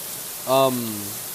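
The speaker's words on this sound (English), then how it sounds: "I just want to stand out here next to this rain so you guys can hear just how freakishly crazy this rain is" Heavy rain pours down outdoors in a steady, loud broadband hiss that fills the whole clip, while a voice briefly sounds over it near the middle.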